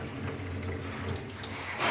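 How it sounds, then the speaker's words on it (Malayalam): A pressurised water jet rushes steadily from a tap for a brief moment, a soft continuous hiss close by. "അതിങ്ങനെ ഈ ഫോഴ്സ് ലൈൻ വെള്ളം വരൂലേ?"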